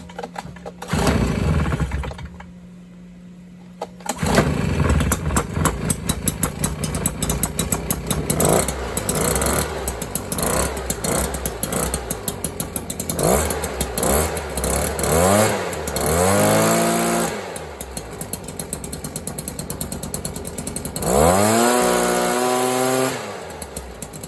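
A Stihl BR400 backpack blower that had sat unused for years sputters, fires and catches, its small two-stroke engine revving up and down in loud bursts with brief pauses and surging rises, close by.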